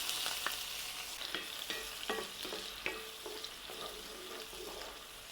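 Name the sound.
diced onion frying in oil and butter in a hot pan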